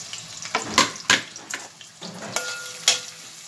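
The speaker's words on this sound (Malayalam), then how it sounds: "സവാളയും ഉള്ളിയും കൂടെ നമുക്ക് ഇട്ട് കൊടുക്കാം." Onions and shallots sizzle in a hot pan for beef karivali varattiyathu, with a steady frying hiss broken by several sharp stirring scrapes and clinks; no voices.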